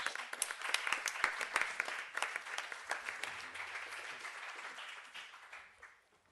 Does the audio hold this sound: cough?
no